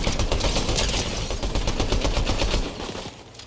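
SMG gunfire in a video game, rapid bursts of shots in quick succession that carry on loudly before thinning out near the end.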